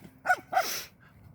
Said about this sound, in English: A little doggy.